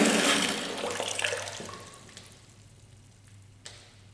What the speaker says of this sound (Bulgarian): пускаш водата мивката